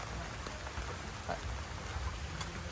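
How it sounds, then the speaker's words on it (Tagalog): Heavy rain pouring down steadily outdoors, a dense even hiss of drops on surfaces with a low rumble underneath, constant and fairly near with no talking. "Sobrang nang malakas yung ulan guys."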